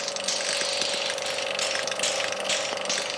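A vacuum tester draws air through a small hole in a valve seat on an engine cylinder head, a continuous rasping, whirring hiss with a fast mechanical rattle running through it, loud and close.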